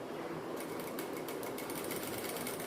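A sewing machine stitches a silk skirt for a young girl, its fast steady rattling running continuously at close range with a brief pause in the first half-second, no voices present.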